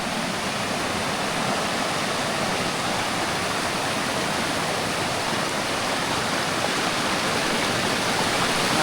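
Cold mountain stream water rushing steadily on a trek from Horton Plains to Ohiya in Sri Lanka, a loud, continuous broadband wash of flowing water close by, with no voices.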